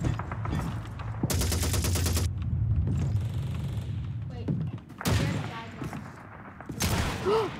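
Video-game gunfire in Call of Duty 2, with bursts of rapid automatic fire and scattered single shots over about eight seconds, loud and close, while players talk and gasp over the shooting.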